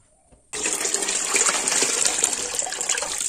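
Water gushes out suddenly after a moment of near silence and keeps pouring in a steady, close, fairly loud stream while water is being changed.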